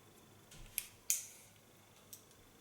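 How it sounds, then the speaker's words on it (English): Scissors snipping hair with a fine point-cutting technique during a medium-long bob cut, a few quiet crisp snips spaced apart against a soft, quiet room. "And gently take off some hair. Again, use an ultra fine point cut technique."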